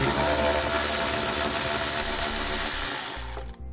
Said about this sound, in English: So we're going to take our 10 millimeter socket